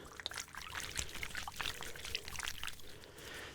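ASMR water trigger toys spill and trickle water in close, uneven pours with bright splashing drips, no voices over them.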